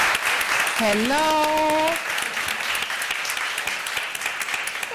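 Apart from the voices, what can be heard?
audience applause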